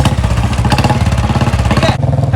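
A Royal Enfield Bullet motorcycle engine running close by, its loud, steady thumping beat pulsing evenly throughout with a slight change in tone near the end.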